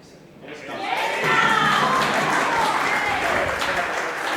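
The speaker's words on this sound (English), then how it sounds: "The crowd's getting loud." A crowd at the men's singles final of the 2017 AEBF bowls nationals breaks into applause and cheering, swelling quickly to a dense, sustained roar of clapping.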